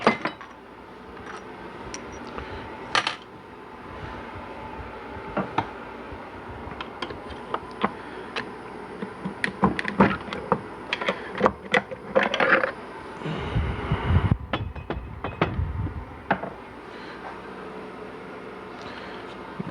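A 4L60e transmission upper case being taken apart by hand: irregular metallic clinks, taps and clatters of parts and tools, close and moderately loud, with no talking.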